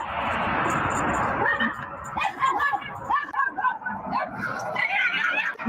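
A dog gives short yips and whimpering barks at close range, mixed with people talking, after a broad noisy start.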